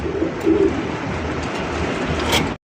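A large fancy pigeon coos briefly near the start, a short throaty burst over a steady background hum from a pigeon market.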